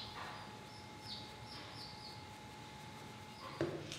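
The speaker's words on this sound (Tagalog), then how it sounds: "Kung ibon yung naririnig nyo naman na ingay ngayon" Birds chirp faintly in the background during an indoor makeup session, a few quick high tweets scattered over a quiet room hum, ending with a brief nearby clatter.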